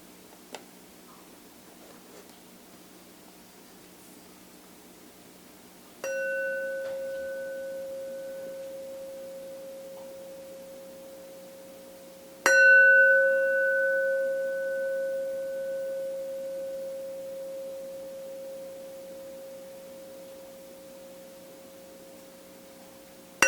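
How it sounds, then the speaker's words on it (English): Two clear meditation bell strikes several seconds apart, each a bright metallic tone with rich overtones that rings on and slowly fades into a quiet room. "when the bell rings, doing your best to listen to the tones from the very beginning until the sound entirely fades away"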